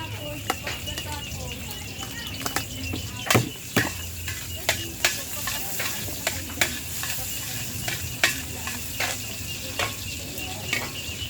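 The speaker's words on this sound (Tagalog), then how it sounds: "Guys, lagay tayo ng sibuyas at bawang." Onion and garlic fry in a pan for a barangay fiesta dish, a steady low sizzle running throughout, broken by repeated sharp clicks and scrapes of stirring.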